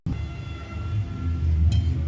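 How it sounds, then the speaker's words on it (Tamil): A mixer grinder grinds coriander chutney at close range, its motor holding a continuous low drone throughout. "மிக்சி ஜாருக்கு மாற்றிட்டு நம்ம அரைச்சிக்கலாம்"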